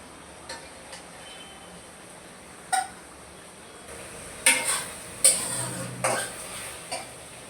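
Cooked fish lifted out of a frying pan, with a soft background sizzle and several sharp utensil clinks and scrapes against the pan, spaced irregularly and fairly close.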